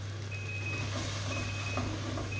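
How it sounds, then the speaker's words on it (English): A kitchen timer alarm goes off while chicken tikka cooks, thin steady beeping over a constant low hum that fills the room, with no voices. "That's my alarm going off for my chicken tikka"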